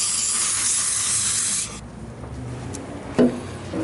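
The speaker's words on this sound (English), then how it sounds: "Take a little bit of brake cleaner and spray it on a paper towel or a" Brake cleaner sprayed from an aerosol can onto a paper towel or shop rag, a loud close hiss for about a second and a half that cuts off, followed by faint rustling and a short thump.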